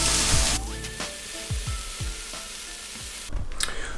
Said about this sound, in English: So now what we'll do is throw in the spinach